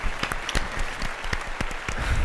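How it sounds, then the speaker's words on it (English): A small group clapping, with sharp individual claps close by standing out over a thinner patter, brief and fairly loud with no talk. "So a round of applause for Ash"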